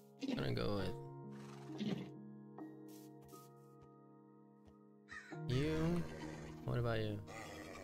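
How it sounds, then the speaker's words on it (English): A horse neighs in the video game Minecraft, a drawn-out whinny set between bursts of close, lively talk from players. "It is a horse."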